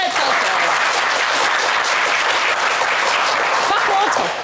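A studio audience at a game show claps loudly for four qualified contestants, a dense continuous burst of applause with some crowd cheering mixed in, close and sustained.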